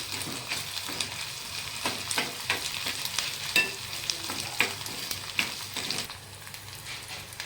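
Ginger-chili paste sizzles and fries with onions in a pan for a Punjabi-style raw peanut curry, with a steady crackle broken by repeated scraping stirs and no talking.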